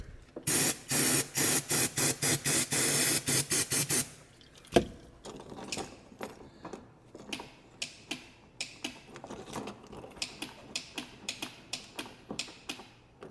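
Brake cleaner sprayed onto an ATV engine in a rapid series of short, close bursts for the first few seconds, then sparser hisses and scattered clicks and taps follow, with no one talking.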